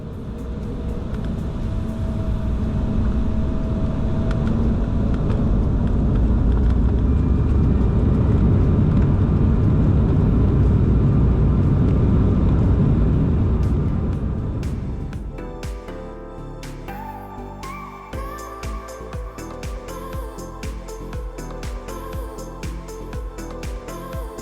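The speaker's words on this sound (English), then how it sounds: "it's finally time for takeoff and enjoy this short flight to New York" Broadband roar of an Embraer jet airliner on its takeoff roll, heard from inside the cabin, building loud and steady for about fifteen seconds, then easing into a quieter, tonal cabin drone.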